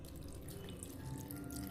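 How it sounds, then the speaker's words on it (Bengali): Water pouring from a tap into a mixer grinder jar holding ginger and green chillies for idli chutney, a steady running splash in a kitchen with no talk. "অল্প জল দিয়ে দেবো"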